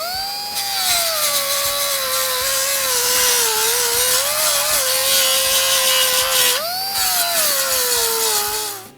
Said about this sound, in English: Now we're going to go back to using our 36 grit grinding disc.